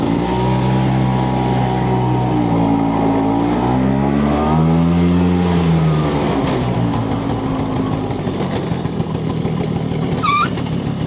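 A 1968 Vespa 150 Sprint scooter pulls away in first gear, its small two-stroke engine rising in pitch as it revs up, then settling into a steady, close buzzing drone, with no talk over it.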